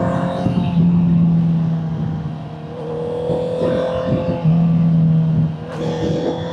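A 2023 Honda CBR650R motorcycle fitted with a Vandemon exhaust being ridden on the road, its engine loud and close with rising and falling revs through gear changes.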